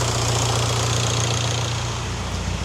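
A steady, loud 1.9 TDI diesel car engine tuned to 250 hp drones at idle with a low rumbling hum and rough knocking texture, continuous throughout with no voices.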